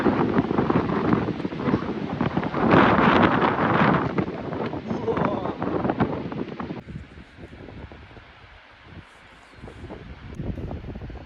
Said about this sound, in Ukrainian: Вітер просто жахливий.